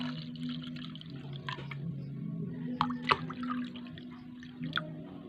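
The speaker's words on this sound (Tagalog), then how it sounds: "Lagyan natin ng tubig para maging juice siya." Water pours into a glass of calamansi juice in a home kitchen, a faint run of trickles, drips and a few brighter splashes over a low steady hum.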